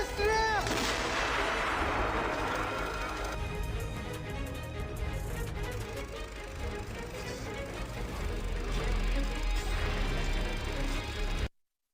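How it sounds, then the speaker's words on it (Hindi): Russian artillery shelling Ukrainian positions in wartime, heavy booming blasts with crashing and rumbling echoes filling the scene at a loud, continuous level, some voices faint beneath. "यूक्रेनी सैनिकों पर रूसी फौज ने तोप से बमबारी कर दी।"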